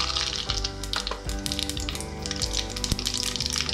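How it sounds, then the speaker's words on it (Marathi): Mustard seeds sizzle and crackle in hot oil as a tempering for dosa, a steady frying hiss over a background of tonal music. "हे बघा, तेल गरम झालेलं आहे। मोहरी टाकून घेऊयात,"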